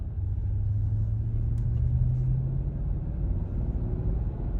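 A Mercedes GLS 600 Maybach engine at light throttle, heard from inside the cabin as a smooth, low, steady rumble with a faint rising drone, no speech.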